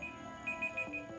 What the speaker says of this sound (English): There is the timer.